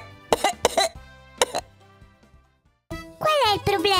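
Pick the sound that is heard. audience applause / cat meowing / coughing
coughing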